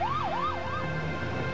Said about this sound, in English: The two are rushed to a waiting ambulance.